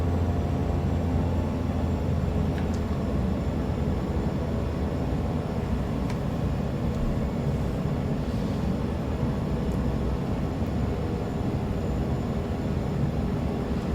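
A Black Square Caravan turboprop cruises on approach to St. Barths in a flight simulator, its engine a steady, unbroken drone with no voices over it.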